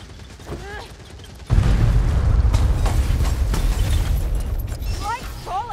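Enemy gunners firing in the game Warhammer Vermintide, a loud sustained roar of rapid gunfire kicking in abruptly after a quieter start and continuing steadily, with game voices and squeaky cries layered over it.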